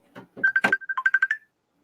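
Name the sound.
video call ringtone on a phone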